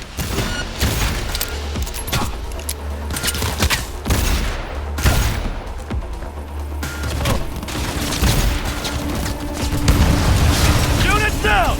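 Bursts of gunfire from Cyberpunk 2077 fill the mix, with rapid volleys and heavy booming hits over a steady game soundtrack, loud and continuous throughout.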